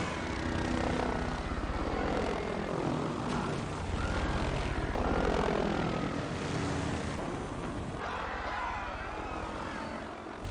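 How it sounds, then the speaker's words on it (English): A helicopter in the 2015 film Spectre roars with rotor and engine steadily throughout, loud and close, with a broad constant drone and faint voices beneath it. "Helicopter gonna crash."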